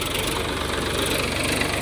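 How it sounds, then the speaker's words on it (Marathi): An 18-year-old farm tractor used with a seed drill for soybean sowing runs steadily, a continuous low throbbing engine drone with a rough knocking pulse, close and fairly loud, with no talking. "बघा आमचं पेरणी यंत्र ही आणि हे आमचं ट्रॅक्टर आहे."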